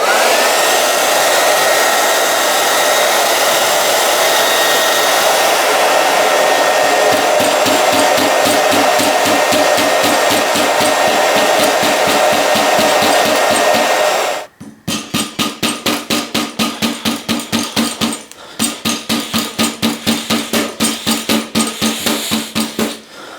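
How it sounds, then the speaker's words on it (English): A hairdryer warming the parts of an Answer Manitou 1 bicycle suspension fork, a loud steady close blowing roar with a rapid pulsing flutter, briefly cutting out before resuming with a choppier throbbing pattern. "I'm just going to use a hairdryer, not a heat gun."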